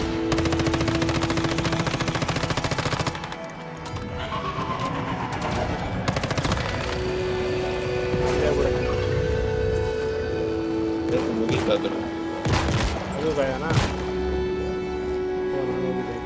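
Sniper gunfire in the survival shooter Once Human, sharp loud shots ringing out over a busy bed of automatic fire and game music, with several distinct cracks scattered through.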